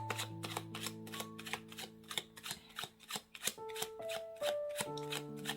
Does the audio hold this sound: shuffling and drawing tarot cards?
yes